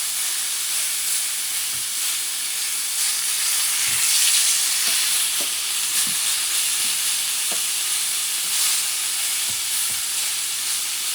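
Pork sizzles and fries steadily in a hot pan after being flipped. The hiss is loud, dense and continuous, with small pops and faint clatter underneath and no talking.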